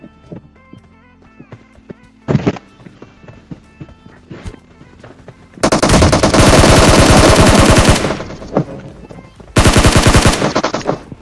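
Automatic gunfire rattles through a shooting video game, starting with scattered single shots and short bursts, then two long, loud sustained volleys of rapid fire with a gap between them.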